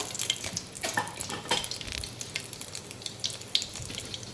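Mustard seeds and cumin crackle in hot oil in a wok, a close hissing sizzle with scattered sharp pops and a few clinks, no talking.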